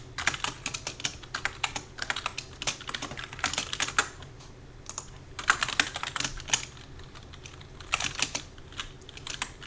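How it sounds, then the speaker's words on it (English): Typing on a computer keyboard, close and crisp, in irregular bursts of rapid clicks broken by short pauses. "Gosh, I type so slow when I'm tired."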